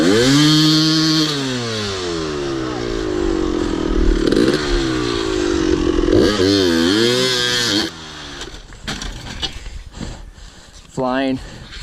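A Honda dirt bike engine climbs a hill close by, loud and buzzing, its revs sweeping up and down through gear changes and throttle bursts, then cutting out before a short final rev, with people talking over it.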